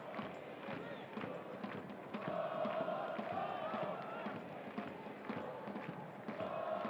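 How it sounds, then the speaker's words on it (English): A stadium crowd at a New Mexico United soccer match at the Lab, a steady broad roar with rising swells and cheering, heard under a play-by-play commentator talking throughout. "Terrific crowd on hand again tonight at the Lab"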